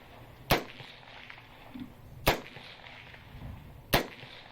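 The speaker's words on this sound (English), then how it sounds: "That's an AR-15." Three sharp, loud gunshots from an unsuppressed AR-15 rifle, evenly spaced about two seconds apart, each a hard crack with a short tail over a low background murmur.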